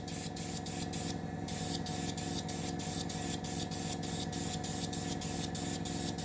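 An airbrush sprays paint onto a model Russian Navy Project 955 Dolgoruky submarine, a close, continuous hiss cut by regular short bursts, one longer burst early on, with a steady compressor hum beneath.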